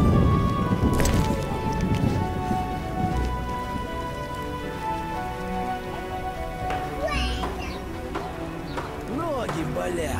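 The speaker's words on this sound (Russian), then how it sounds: "Дождь собирался." Steady rain in The Witcher video game patters and hisses throughout, with high chirping birdlike calls near the end and scattered background voices.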